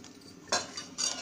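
A whisk stirring gram flour into curd in a bowl gives two quick, bright metallic clinks against the bowl over a soft stirring rustle.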